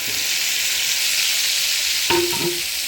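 Green chillies sizzle steadily in a hot pan while cooking a sardine dish, a loud, continuous frying hiss with a brief stir and clink of a utensil near the end, no voices.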